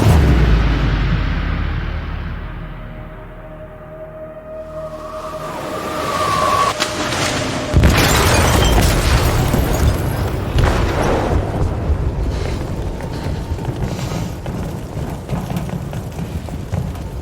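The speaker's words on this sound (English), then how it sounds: "They detonated an explosive in the hold." A deep, rumbling blast rips through a ship's hold in Detroit: Become Human, building from a low roar into a loud sustained explosion with churning debris and rushing noise that stays heavy for many seconds.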